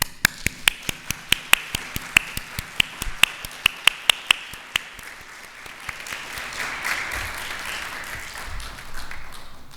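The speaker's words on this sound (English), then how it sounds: "please join me in expressing our honor and love for Mrs. Anhui with a resounding applause." Scattered, sharp claps at an online awards event in honour of Mrs. Wee, a dozen or so distinct claps over the first five seconds, thinning out into soft background noise.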